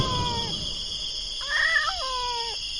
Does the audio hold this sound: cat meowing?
yes